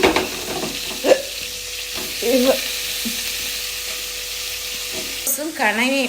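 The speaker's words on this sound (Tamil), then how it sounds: "வெங்காயம் நல்லா கிளறி விடலாம்" Chopped onions fry in a pan while being stirred, a loud steady sizzle broken by scraping stirs and a couple of brief squeaky tones.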